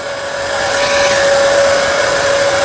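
An electric forklift's hydraulic pump motor whines steadily while lifting, a loud, even electric hum that holds for a couple of seconds with no speech.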